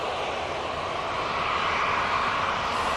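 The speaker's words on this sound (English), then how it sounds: "Pretty subdued departure there for a 330, but still take it nonetheless." An Airbus A330 departs Manchester Airport, its jet engines a steady, fairly subdued broadband roar heard from a distance with no voices.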